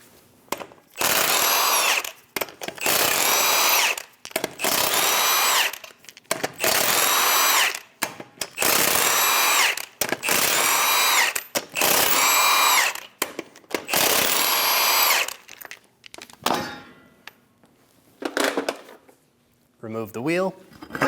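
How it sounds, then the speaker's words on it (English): Power tool with a 22mm socket removing the eight wheel lug nuts on a Chevrolet Express 2500, a run of loud whirring bursts in steady succession with short gaps between, tapering into quieter handling noises at the end. "Using a 22mm socket, remove the 8 lug nuts."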